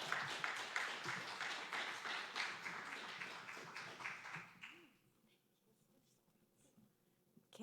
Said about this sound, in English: another round of applause for Alexis